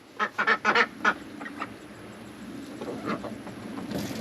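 Farm ducks quack nearby in a quick burst of five or six loud calls, followed by fainter, scattered quacks over low background noise.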